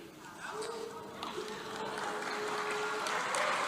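Applause at a university spring ceremony for a retiring president, a soft crowd clapping that swells gradually, with voices and chatter mixed in among the audience.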